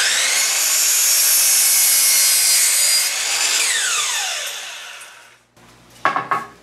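A miter saw cuts through wood pieces for a house-shaped toddler bed, giving a loud, sustained whining buzz that falls as the blade spins down, then a few short knocks and rattles as the pieces are handled.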